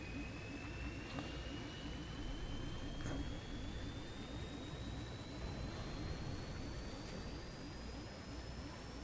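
Steady, droning airplane engine hum inside a plane in Stranded Deep, constant and fairly quiet, with a thin rising whine above it and no talking.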